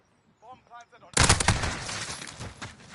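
Automatic rifle fire in Call of Duty Modern Warfare 2019 erupts after a brief voice, a loud sustained burst of rapid shots with a noisy tail.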